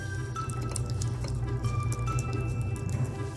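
Tap water running into a sink where a cat plays, a steady hiss and splash with scattered drips, close and constant, over a low hum.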